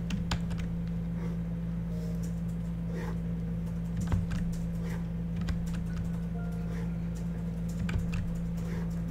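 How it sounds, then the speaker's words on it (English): Steady keyboard typing runs throughout, a continuous patter of key clicks over a constant low electrical hum, close and moderately loud, with no voices. "I can confirm she is definitely typing it."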